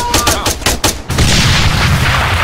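An explosion from a suicide bomber in the video game ArmA 3 follows a rapid run of close gunshots, erupting into a loud, sustained blast and rumble.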